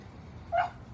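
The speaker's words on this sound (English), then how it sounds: "I'm trying to stream and you're barking like crazy." A puggle dog lets out a single short bark at middle distance, standing out briefly above a quiet, steady room background.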